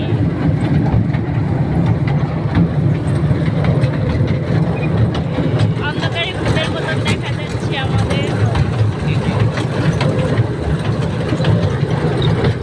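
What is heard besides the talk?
moving train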